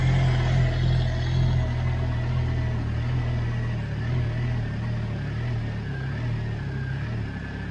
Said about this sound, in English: Got a little bit of a lumpy idle.